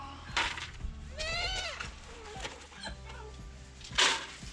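Several wavering animal bleats, goat-like, sounding close amid farmyard noise, with a couple of sharp knocks and shuffles between calls.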